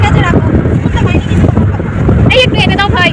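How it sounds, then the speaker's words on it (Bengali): Strong wind roars against the microphone in heavy, continuous gusts while people talk nearby. "প্রচুর হাওয়া, প্রচণ্ড হাওয়া দিচ্ছে।"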